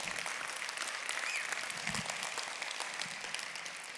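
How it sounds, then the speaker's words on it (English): A convention crowd applauds during a closing keynote, sustained, even clapping from many hands that fills the hall and holds steady throughout, with no voices over it. "You can clap all you want."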